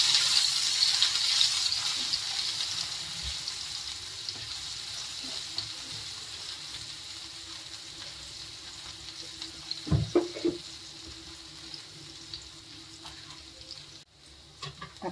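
Ginger-garlic paste with chillies sautés in a pan for a Marathi potato bhaji, giving a steady soft sizzle with a few louder scraping stirs near the middle and no talk.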